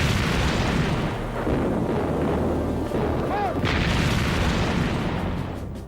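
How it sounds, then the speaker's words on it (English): A battleship's 11-inch guns firing in a naval battle: a dense, continuous roar of heavy booming, loud and sustained throughout, with a brief whistling tone passing overhead partway through. "his 11-inch guns kept pounding her"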